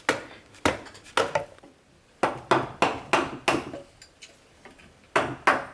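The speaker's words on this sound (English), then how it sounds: "Clean it out with the chisel" Sharp wooden knocks from a chisel cleaning out a cut in wood while building a pole lathe, coming in irregular clusters of close, loud strikes with short pauses between groups.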